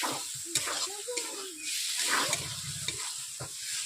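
Small splash of water poured into a wok of frying papaya and potatoes, bursting into a loud hissing sizzle with stirring clatter and scraping, close and continuous.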